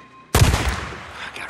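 A single loud gunshot in the video game Days Gone, sharp and booming with a long fading tail and a faint later echo, heard alone without talk.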